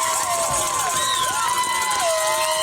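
A football crowd at a high school game, on its feet and cheering in a continuous roar, with an announcer's voice and whistles over the top.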